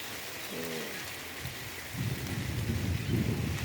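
Steady rain falls over a vegetable garden full of plants, a dense, even hiss throughout that swells into a deeper, heavier rumble in the second half, with no voices.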